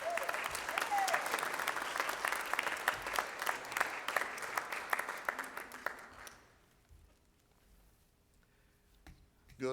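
A church congregation gives a warm round of applause to welcome Reverend Floyd Ellison, a dense, steady clapping that fills the room for several seconds and then dies away into near silence.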